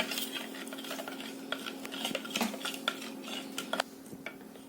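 Flour and dough ingredients for a French king cake are stirred in a bowl. Light clinks and taps of a utensil against the bowl repeat irregularly over a faint background hum, close and quiet, with no talking.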